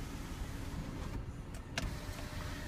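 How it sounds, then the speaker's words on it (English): A power sunshade closing overhead in a 2012 Ford Explorer Limited, a steady low electric motor hum running under the cabin's ambient noise, fairly near, with a faint click near the end as it finishes. "let me go ahead and close the sunshade"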